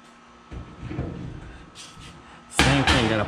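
Short knocks and a sharper bang as a metal center door is fitted onto a Harbor Freight hanging tool cabinet, with the loudest clatter near the end.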